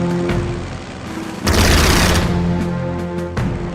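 Aircraft strafe with rapid gunfire in the Strategic Mind: Spectre of Communism war game, a loud burst of crackling shots and booms that swells midway and holds, with sharp reports scattered before and after.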